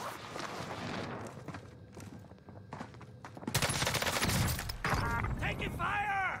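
Video game gunfire crackles in rapid bursts and volleys, loud and close, mixed with other game noises and a person talking.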